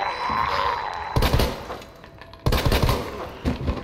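Gunfire in the video game Resident Evil 2 Remake comes as two loud bursts of shots over a steady rumbling game background, with no speech.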